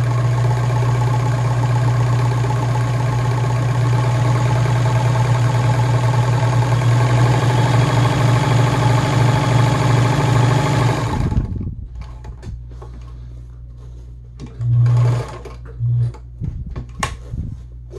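A Gritzner VZ sewing machine, also sold as the Kenmore 117.740, runs steadily while stitching a narrow zigzag. The motor hums loudly and evenly with a rhythmic mechanical whir, then stops abruptly, leaving a few faint clunks and thumps.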